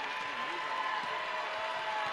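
Hillsboro basketball fans in an arena at a high school boys semifinal build a steady, distant crowd roar and cheer that holds evenly throughout.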